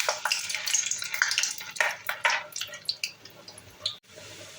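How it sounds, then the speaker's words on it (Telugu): Small snack pieces dropped a few at a time into hot oil, giving a close, crackling sizzle with bursts of bubbling and popping that fade and rise, no talking. "ఆయిల్ బాగా వేడైన తర్వాత ముందుగా మనం చేసుకున్న వీటిని కొద్ది కొద్దిగా వేస్తూ కాల్చుకోండి"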